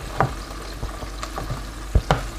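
Bear's head hedgehog mushrooms fry in a pan with a continuous sizzle, punctuated by several sharp knocks and scrapes of stirring, close and alone.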